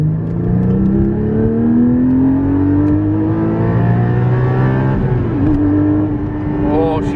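A Porsche 718 Cayman GT4 engine revs loudly and climbs steadily in pitch, dips briefly, then rises again with a high, whirring mechanical tone, close up, with voices talking over it.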